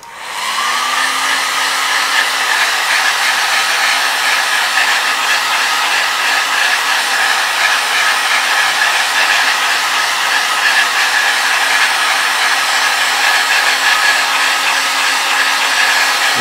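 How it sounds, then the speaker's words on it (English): A heat gun runs at full speed for an Xbox 360 red-ring repair, giving a loud, steady blowing whoosh with a faint motor whine that holds unbroken and alone after a quick spin-up at the start. "Now my heat gun is at full speed."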